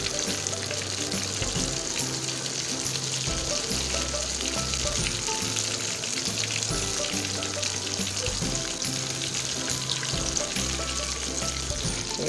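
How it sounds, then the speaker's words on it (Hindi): Mutton chops fry crisply in oil for restaurant-style chops, a steady, dense sizzle running unbroken throughout with low bubbling underneath and no voices. "तो ये देखें तमाम हमारी चॉप्स जो हैं वो फ्राई हो गई हैं।"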